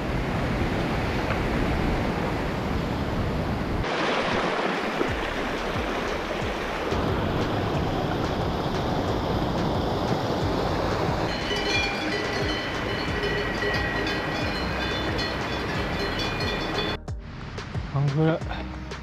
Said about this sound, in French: Un beau petit torrent.